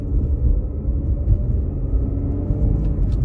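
An Infiniti Q60 fitted with a solid transmission mount pulls onto a highway, its engine a loud, steady low rumble heard close from inside the car.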